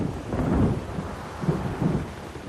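A thunderstorm at sea with a ship caught in it: low rolling thunder rumbles in a couple of swelling waves over a steady wash of rain and wind, with no voices.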